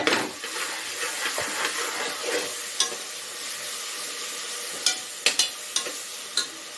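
Ginger garlic paste sizzles in a hot pan for goat trotter curry while a spoon stirs it, giving a steady frying hiss with scattered sharp clinks of the utensil against the pan and no voices.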